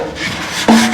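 A scrubber worked hard against a dirty pressure cooker in a kitchen gives a close, steady rasping rub that grows louder and harsher near the end.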